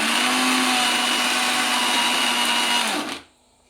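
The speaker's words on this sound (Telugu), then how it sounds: "ఈ విధంగా అన్నీ మెత్తగా గ్రైండ్ చేసుకోవాలండి." A mixer grinder whirs loudly and steadily as it grinds roasted dry fruits and dates into powder for laddu, running about three seconds before abruptly cutting off into near silence.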